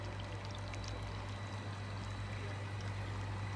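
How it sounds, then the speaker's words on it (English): Steady running water from a small spinning water wheel in an outdoor clay model village, a continuous even wash with a faint low hum, no voices. "How the water wheel just spins."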